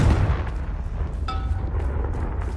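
A Confringo fire spell bursts in Hogwarts Legacy, a single sharp explosive blast with a brief ringing tone after it, standing out over low game ambience.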